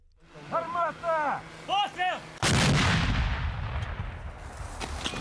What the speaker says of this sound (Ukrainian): У комплексних навчаннях задіяли не лише піхоту та броньовану техніку, але й потужні гармати.